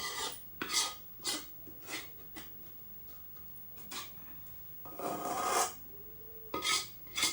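A spatula scrapes a hot kadhai clean after milk sweets are made, producing rough, rasping metal strokes in irregular bursts, with one longer scrape near the end, close and fairly quiet.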